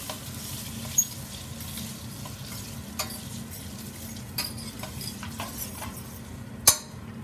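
Noodles tossed and stirred in a hot pan, giving a steady sizzle under scattered metallic clinks and scrapes of utensils, with a sharper clatter near the end.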